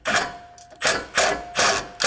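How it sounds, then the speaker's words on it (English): Bolt being tightened on an aftermarket side step fitted to a Sprinter van, heard as four close, loud bursts of ratcheting or driving, each roughly a quarter second long with short pauses between, and no talk. "we're gonna tighten the bolt down here"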